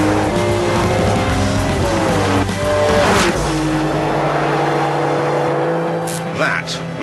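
A Ferrari 599 engine revs hard on launch control and then launches, roaring up through the gears with a brief tire squeal, loud and close, fading slightly as it pulls away.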